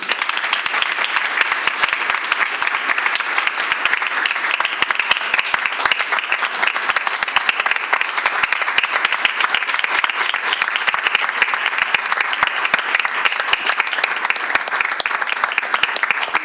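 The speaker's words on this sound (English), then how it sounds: "Can we give a round of applause to Senator Karen Maine?" Steady, dense applause from an audience honoring a state senator at a Board of Education meeting, holding at an even level for the full span with no voices rising above it.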